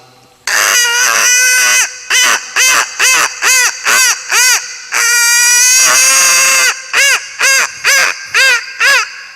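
On a comedy stage, a man imitates a hen laying an egg with a long run of loud, strained, nasal squawks. The calls come in a steady rhythm of short bursts and include two longer drawn-out cries.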